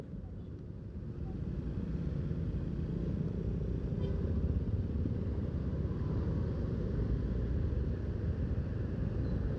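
A 2017 Honda Vario 125 motorcycle rides through a residential area in Tangerang, its low engine rumble steady and close beneath constant wind buffeting on the microphone.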